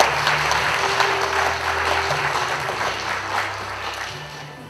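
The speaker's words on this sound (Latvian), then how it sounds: "Tad vēlreiz uzgavilēsim ar aplausim un sūtīsim sirsnīgus sveicienus." An audience at a Latvian proclamation anniversary celebration in Līvāni applauds, a steady wash of clapping filling the hall throughout, moderately loud with music or hum underneath.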